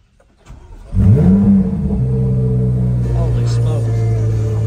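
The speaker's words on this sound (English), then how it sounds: "we are sitting in a brand new Z06. Corvette. I'm about to crank it up" A brand new Chevrolet Corvette Z06 fires up with a sharp, loud starter catch and rev flare, then settles into a strong, steady high idle heard from inside the cabin.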